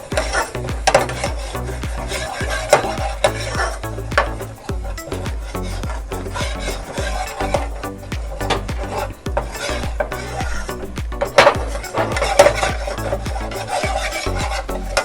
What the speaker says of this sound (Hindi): इसी घी में हम डाल देंगे आटा और इसे अच्छे से हिलाते हैं।